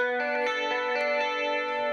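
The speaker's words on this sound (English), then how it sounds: "I really slammed the compressor on it and put some echo on there and some harmonizer" An isolated electric guitar part, heavily compressed and treated with echo and a harmonizer, rings out as a sustained, evenly loud chord with shimmering doubled tones and no talking.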